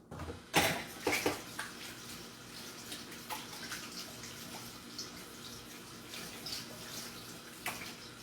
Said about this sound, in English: I'm just going to wash this out.